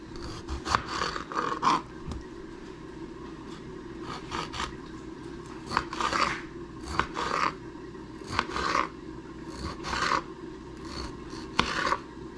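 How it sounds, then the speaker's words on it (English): A kitchen knife chops tomatoes into small pieces for soft tacos, giving a steady run of short, close, crisp cuts in uneven bursts over a quiet room. "She's gonna cut her tomatoes. Smaller the better."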